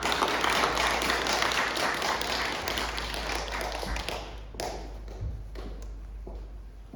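A church congregation at a Sunday service applauds, a sustained wash of clapping over a low hum that thins out and tapers after about four seconds, leaving scattered claps.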